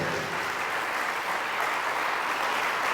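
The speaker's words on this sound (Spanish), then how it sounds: "Fuertes aplausos" A church congregation at a Spanish-language Catholic healing service bursts into loud, sustained applause, a dense unbroken wash of clapping that holds steady throughout with no speech over it.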